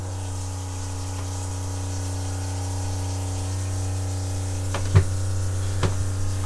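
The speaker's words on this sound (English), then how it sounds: "someone turns on the water pump." A yacht's water pump hums steadily beneath a cabin bed on a 2019 Hanse 418, a continuous low drone with a couple of brief knocks near the end, heard alone.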